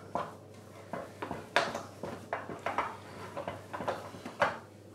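Potato being mixed into choux pastry in a bowl, a series of soft scraping and knocking utensil strokes against the bowl, fairly quiet and rhythmic, with no talking.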